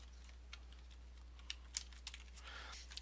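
Computer keyboard typing, a handful of light, scattered keystrokes clicking quietly and irregularly over a faint steady hum, with no voices.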